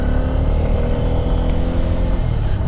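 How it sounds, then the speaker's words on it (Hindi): A Bajaj Pulsar N250 motorcycle rides steadily at close range, its engine a loud continuous drone throughout a short stretch as it swings through a U-turn, with no voices. "यहाँ से फटाफट से यू टर्न लेते हैं और उसके बाद आपको बताते हैं थोड़ा सा और चला करके।"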